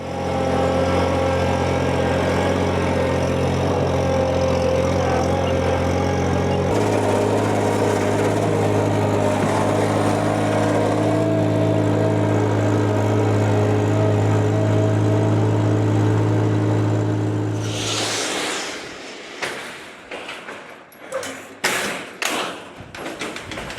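Engine of a side-by-side utility vehicle hauling a Ventrac machine on a trailer, a steady loud drone with harmonic hum that holds for about eighteen seconds, then cuts to scattered thumps and knocks.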